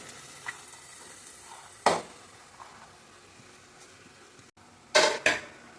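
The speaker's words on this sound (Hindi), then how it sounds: "तो एक कैबेज और गाजर थोड़ा सा सॉफ्ट होने तक अच्छी तरीके से फ्राई कर लेती हूँ मैं।" Chopped cabbage and carrot fry quietly in a pan, a faint low sizzle broken by a few sharp clanks of a spoon stirring against the metal.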